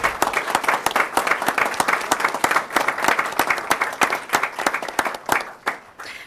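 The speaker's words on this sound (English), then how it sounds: "let's go ahead and give a round of applause for Brielle and Tommy." Attendees at a school board meeting give a short round of applause for student recognitions, a small group clapping in uneven, distinct claps that fade out near the end.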